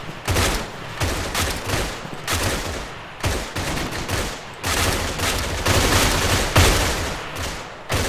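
Arma video game gunfire during an air assault on a compound: repeated loud bursts of rifle and machine-gun fire in rapid clusters, close and continuous across the stretch, with no talk.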